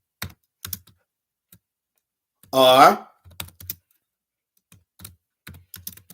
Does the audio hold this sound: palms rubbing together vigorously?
no